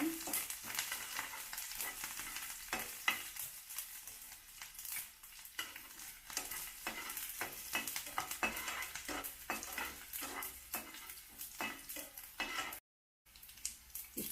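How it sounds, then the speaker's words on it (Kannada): Garlic frying in a pan for a red amaranth palya, a traditional Karnataka dish: a steady soft sizzle with repeated scraping stir strokes, close but fairly quiet, with no talk. "ಇಷ್ಟು ಬೆಳ್ಳುಳ್ಳಿ ಹಾಕ್ಕೊತೀನಿ ಸ್ವಲ್ಪ ಕೆಂಪಗೆ ಹಾಕ್ಬೇಕಿದು"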